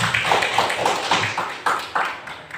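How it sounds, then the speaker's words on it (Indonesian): Clapping in a classroom, a group of hands beating in a loose rhythmic pattern of about a dozen claps, close and moderately loud, with no talk. "Tepuk tangan dulu."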